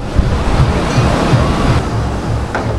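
Sea waves roll onto Old Digha beach in a loud, continuous rushing wash of surf, with wind buffeting the microphone throughout.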